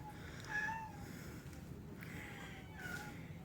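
A cat at a cat shelter gives a few soft meows, faint and somewhat distant over a low room hum, with a pause between calls.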